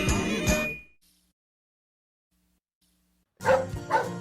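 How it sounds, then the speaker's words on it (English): Pet dog Annie barks in two loud, close bursts, a yapping volley at the start and another after about two and a half seconds of silence. "That's my dog, Annie."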